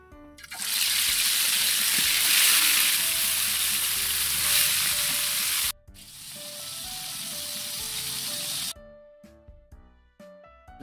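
Galunggong fish fry in hot oil with a loud, steady crackling sizzle that cuts off briefly, resumes, then stops, leaving faint clinks and light kitchen noises.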